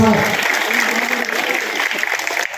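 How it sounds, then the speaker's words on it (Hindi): Loud, dense clapping from a crowd at a Congress party election rally for a Mahendragarh assembly candidate, filling the whole stretch as a steady roar with a voice faintly underneath. "एक बार जोरदार तालियां बजा करके रावदान सिंह जी का मान सम्मान करें जोरदार तालियों के साथ।"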